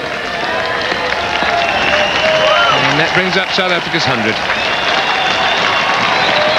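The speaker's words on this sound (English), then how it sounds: "And the crowd have come alive again" Cricket crowd at a 1999 World Cup match between South Africa and Zimbabwe breaks into steady applause and cheering, loud and continuous throughout, with a commentator talking over it.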